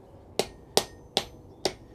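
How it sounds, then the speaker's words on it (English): Four evenly spaced strikes of a rawhide mallet on metal ring out in a smithy, each a crisp, close knock with a short bright decay, alone without talk. "rawhide hammer out here"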